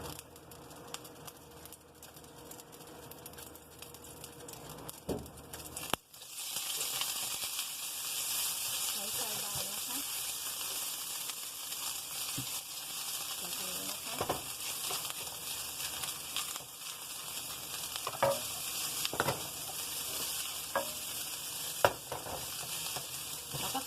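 Rice noodles hit hot oil in a pan with a sudden loud sizzle that keeps hissing steadily, with occasional scraping and stirring in the pan.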